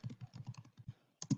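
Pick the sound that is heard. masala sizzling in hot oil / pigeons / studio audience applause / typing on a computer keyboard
typing on a computer keyboard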